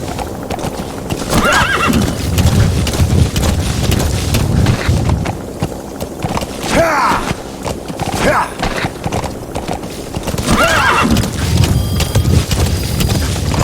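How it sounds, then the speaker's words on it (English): Steady clip-clop of horse hooves with an occasional whinny in Metal Gear Solid 5, set against continuous wind and outdoor rumble, fairly loud and close. "Alright, horse."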